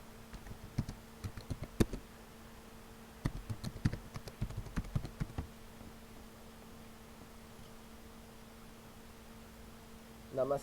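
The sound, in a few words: typing on a computer keyboard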